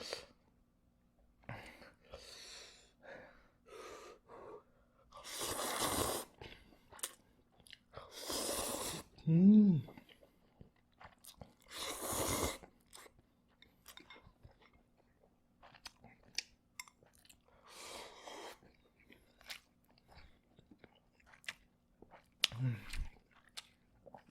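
Chewing and crunching on spicy fire noodles (light version) and Bibigo pan-fried dumplings, close and intermittent, with bursts of loud bites and slurps between quieter stretches; no clear talk.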